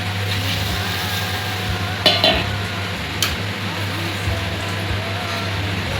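Water poured into fried masala spice paste in a pan for a paneer dish sets off a steady, loud sizzle that lasts throughout, with a couple of brief utensil clinks.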